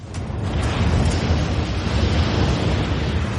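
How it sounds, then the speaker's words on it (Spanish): A tsunami wave crashing through Miami as a wall of water, a loud, dense, continuous roar and rush that stays steady throughout without any voices. "Un muro de agua atraviesa Miami como una bola de demolición"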